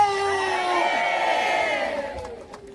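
A crowd at a Korean outdoor gathering with a drum-and-fife band and samul nori performers shouts a loud, sustained collective cheer of manse, voices merging into one swelling roar that fades after about two seconds.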